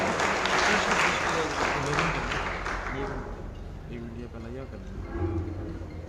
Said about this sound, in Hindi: जोरदार तालियां श्रीमान गोपीराम जी साहब।